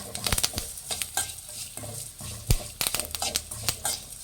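Curry leaves frying in a pan for temple-style puliyogare, crackling sizzle broken by irregular sharp clinks and scrapes of a utensil against the pan, close up with no talk.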